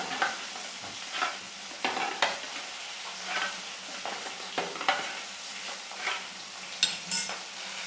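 Hilsa fish heads fry in oil with a soft, steady sizzle, while a spatula scrapes and taps against the pan in irregular strokes throughout.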